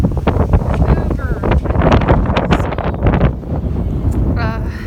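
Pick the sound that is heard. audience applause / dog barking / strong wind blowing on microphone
strong wind blowing on microphone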